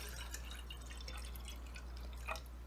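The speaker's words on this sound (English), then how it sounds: "We're going to put our cold water in it." Cold water trickles and drips into a glass mason jar on a tray, a faint, light splashing heard alone against a low background hum.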